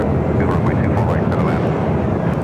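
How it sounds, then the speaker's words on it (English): A British Airways Boeing 777-300ER jet arriving from London Heathrow at LAX, giving a loud, steady engine roar throughout while someone talks over it. "British Airways, 777-300ER coming up from London Heathrow up next."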